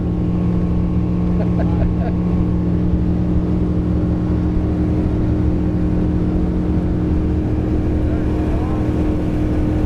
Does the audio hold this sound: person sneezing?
no